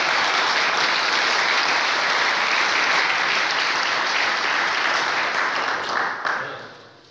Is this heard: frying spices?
no